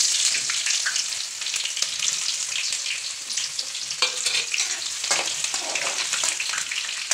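Mountain vegetable frying in oil with chillies in a village kitchen, a loud, close, continuous sizzle with crackles and stirring scrapes throughout.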